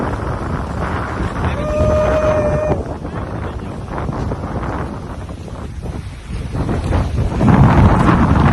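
Strong wind at sea buffets the microphone in loud, continuous gusts, with large waves faintly beneath and a brief tonal whine early on.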